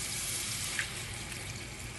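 Water runs into a pot to make beef stock with bouillon for a dirty rice dish, a faint, even hiss of pouring that holds steady throughout.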